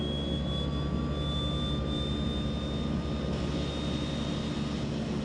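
The left engine of a DHC-6-300 Twin Otter spools up on its starter in an FSX flight simulator, a steady loud turbine drone with a thin rising whine held throughout.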